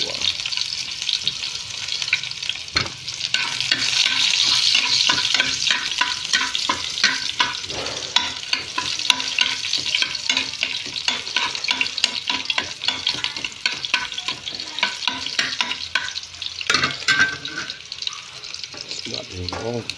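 Garlic for chicken adobo fries with a loud, steady sizzle as a utensil stirs and scrapes the pan in quick strokes, with brief splashy water-like bursts along the way.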